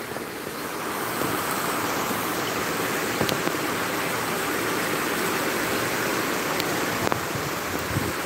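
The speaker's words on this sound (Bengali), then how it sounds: "প্রচণ্ড বৃষ্টি হচ্ছে, রাস্তাঘাট পানিতে খুব তলিয়ে গেছে।" A downpour over waterlogged roads keeps up a loud, constant wash of rain, with a few faint clicks and knocks standing out briefly against the unbroken hiss.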